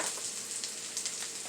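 Minced garlic frying in a pan for a low-sodium potato beef dish, giving a steady close hiss and crackle throughout with no talking.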